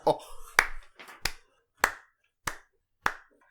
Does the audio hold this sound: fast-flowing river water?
no